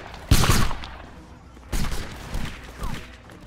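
Musket volleys crack out in a Roblox Napoleonic Wars battle, with a loud ragged volley at the start followed by further sharp bursts of gunfire, some quieter and farther off.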